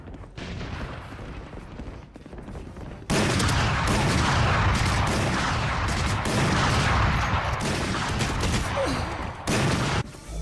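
Gunfire in Valorant, a competitive shooter: bursts of shots and clattering fire that burst in suddenly after a quieter stretch, loud and dense with several weapons overlapping, then a brief break near the end.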